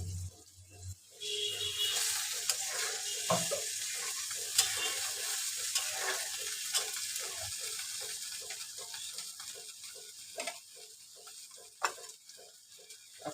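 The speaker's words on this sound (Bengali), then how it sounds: "মশলাগুলো একটু কষাই নিয়ে তারপরে পানি দিব।" Ginger, garlic and cumin spice pastes are stir-fried in a pan for a pangas fish curry, with a continuous soft sizzle under repeated rhythmic scraping strokes of a spoon, close and moderately loud throughout.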